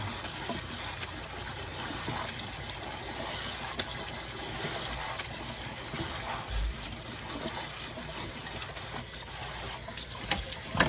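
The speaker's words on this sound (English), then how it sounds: "you can actually use cold water to kind of cool these noodles down" Cold tap water runs steadily over freshly cooked rice noodles for pad thai in a kitchen sink, a continuous close gushing hiss with occasional splashes and no talking.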